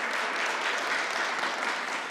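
Audience applause at a New York State gun-violence outreach announcement, a dense steady wash of clapping from a sizeable crowd, even and sustained with no voices on top.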